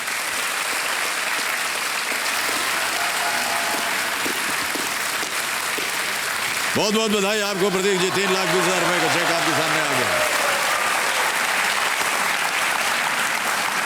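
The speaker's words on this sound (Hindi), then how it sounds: "तालियों के साथ इनका स्वागत" Studio audience on a TV quiz show breaks into loud, steady applause, with a host speaking over it and congratulating a contestant on his winnings.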